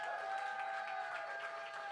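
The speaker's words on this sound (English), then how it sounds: "Please clap very loudly and enthusiastically for Matt." An audience at a poetry slam applauds, a faint dense patter of clapping from a crowd with a steady ringing hum underneath.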